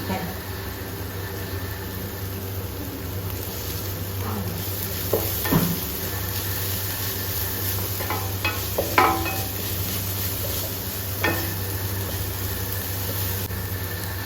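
Onion, ginger, garlic and curry leaves frying for a pork curry, a soft steady sizzle under a low hum, broken by a few clinks and scrapes of stirring.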